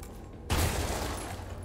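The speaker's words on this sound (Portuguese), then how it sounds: "dei um tiro de magno numa caixa" A single loud magnum gunshot in Resident Evil 3 bursts after a brief near-silence, then rings out and decays slowly with a lingering echo.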